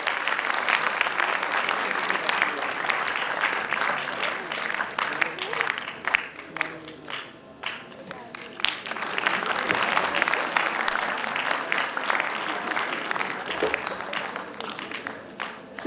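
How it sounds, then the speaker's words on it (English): A conference audience applauds steadily for the whole stretch, a dense wash of clapping from many hands that dips briefly midway and swells again, with some voices mixed in. "Please give a round of applause, please."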